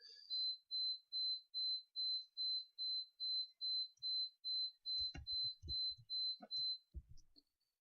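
A household alarm beeps in a fast, even series of short, shrill pulses, about fifteen in a row, followed by a few soft knocks and handling noises as it is shut off.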